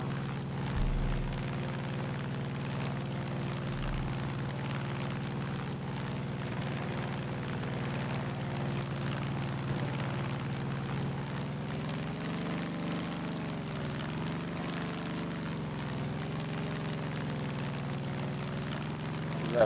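A propeller airplane engine droning steadily in flight in the video game Far Cry 5, a continuous low hum with slight pitch wavering and no speech on top.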